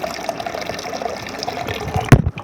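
Water pours into a container at a steady, close rush, ending in a brief louder splash and slosh.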